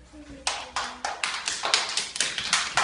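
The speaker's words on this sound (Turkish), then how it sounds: "alkışlar arkadaşına" Applause for a student in a school setting, a small group clapping in quick uneven claps that build and hold at moderate loudness, with faint voices underneath.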